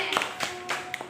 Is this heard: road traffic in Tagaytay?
no